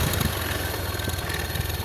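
A Honda Scoopy scooter engine running with the throttle pulled, heard up close at the exhaust as a steady, buzzing mechanical drone for a brief moment.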